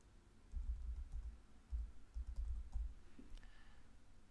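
Quiet keyboard typing at a computer, two short bursts of soft, quick key clicks separated by a brief pause, close and without speech.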